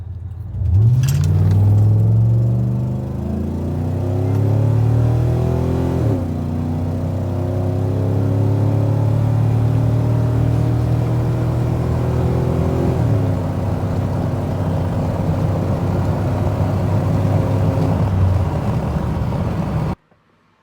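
A pickup truck engine revs hard through several rising gear pulls during a 0 to 60 run, each climb dropping at a shift, loud and close, ending abruptly.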